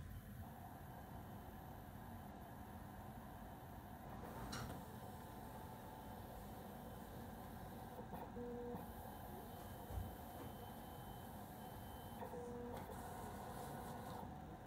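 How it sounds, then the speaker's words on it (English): A Roland CAMM-1 vinyl cutter measuring the width of a vinyl sheet and feeding its length through, a faint steady mechanical whir and hum with small ticks and motor shifts throughout. "It'll measure the width and then suck in the length of the piece of vinyl to measure that as well."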